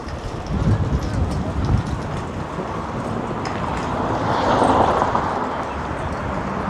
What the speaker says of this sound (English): This wind is really going crazy right now.